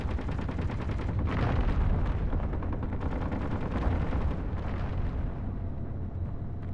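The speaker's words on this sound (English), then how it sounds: "It's the tower and the ship are all just firing at meteors at once." Rapid, overlapping bursts of cannon fire as a tower and a ship shell meteors together in a video game, with booming explosions layered into a dense, continuous barrage.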